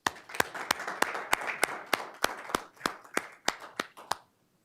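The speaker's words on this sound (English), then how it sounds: "another round of applause" A round of applause at a school board meeting: sparse, separate claps ring out at a steady pace over a soft bed of clapping, then stop abruptly near the end.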